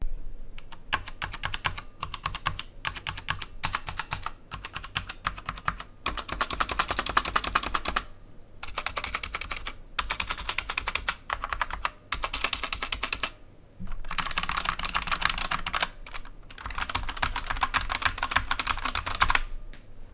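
Rapid typing on a full-size RGB optical gaming keyboard with light, easy-to-actuate keys: dense bursts of close, crisp clicking keystrokes come in runs, with brief pauses between them.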